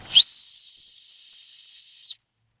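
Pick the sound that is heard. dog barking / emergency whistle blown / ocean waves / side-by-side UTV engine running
emergency whistle blown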